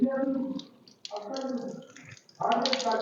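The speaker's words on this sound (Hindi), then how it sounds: "हमने 4 बार पानी डाला" Water is poured from a vessel during Shia wudu ablution in short splashing bursts, falling onto skin and into a basin, with brief pauses between pours.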